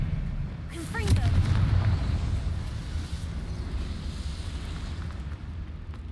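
A fiery Confringo spell explodes in Hogwarts Legacy, a booming, rumbling blast with a rising whoosh early on, then a low roar that fades into a lingering hum.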